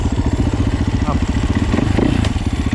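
A 2010 Husaberg FX450 motorcycle ridden through tight woods throbs with a loud, close, rapid engine pulse, its rhythm shifting slightly as the throttle varies.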